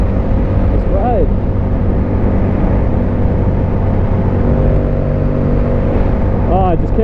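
Yamaha R7 motorcycle being ridden, a loud, steady engine drone with strong wind buffeting close by, and short rising rev sweeps near the start and end.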